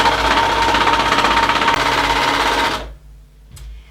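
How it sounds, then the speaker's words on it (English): An old 1970s overlocker runs steadily at a loud, close, even drone while stitching a seam edge on table-cloth fabric, then stops abruptly, leaving near silence and one brief faint clatter. "I'm going to use my old 1970s overlocker."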